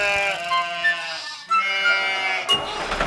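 Sheep bleats in a French children's farm song, sustained wavering baa calls in repeated phrases over background music, loud and close, without speech.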